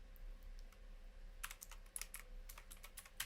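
Quiet typing of alt text on a computer keyboard, scattered light key taps that grow busier partway through, faint and close over a low steady hum, with no talk.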